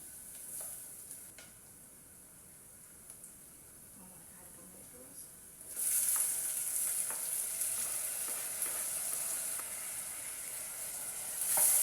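Pressed garlic and onion fry in a pan: a faint quiet sizzle at first, then a sudden louder, steady crackling hiss that continues to the end.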